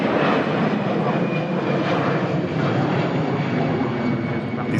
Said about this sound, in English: EasyJet on the way out to Amsterdam